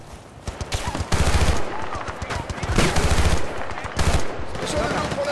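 Sustained automatic gunfire from the Battlefield Bad Company 2 video game, with bursts of machine-gun fire and explosions rattling close and loud across the whole stretch under faint background voices.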